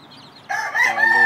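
A fighting gamecock rooster gives one short crow from nearby, with a quiet lead-in and then a loud call that rises and holds.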